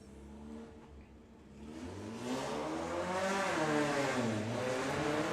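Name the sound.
VW Sportsman drag race car accelerating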